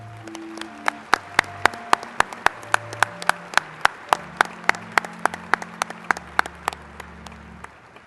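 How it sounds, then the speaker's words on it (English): Commencement applause for master's degree graduates at a 2010 West Virginia University college ceremony, heard as steady, sharp, close claps in an even rhythm over soft sustained musical tones. "Can we please have a round of applause for all our masters?"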